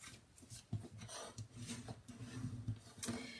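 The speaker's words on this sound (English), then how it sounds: "let's fold them and burnish the edges using a bone folder" A bone folder pressed and rubbed along the folded edges of card stock for a tri-fold card, giving quiet, repeated rasping strokes heard close with no talking.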